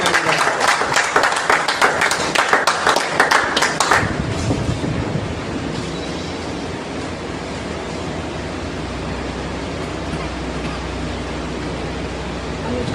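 Hall audience applause at a seminar on population and women's health, with loud, dense clapping for about four seconds before it cuts off and a low steady hiss takes over.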